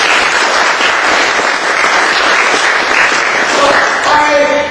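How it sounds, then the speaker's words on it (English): Loud, sustained applause from a large crowd at an Iftar dinner in a town hall, dense continuous clapping that fills the room for several seconds. "I'm sure that deserves a round of applause"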